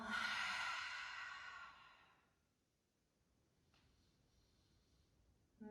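A single long, deep exhale during a yoga session, close and breathy, fading out into near silence after about two seconds.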